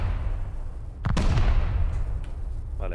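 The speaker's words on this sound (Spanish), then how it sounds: "Vale, ya estoy escuchando yo también las explosiones, ya." Explosions go off during a base raid in the video game Rust: a sharp blast followed by a rumbling, crackling tail over a low steady background drone, with a fainter pop later on.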